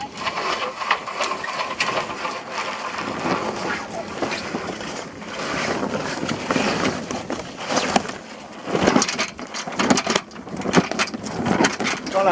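A crew hoists the mainsail on a sailboat held head to wind, with rustling, rattling activity on deck under steady gusting wind noise and the wash of water around the boat, and faint voices now and then.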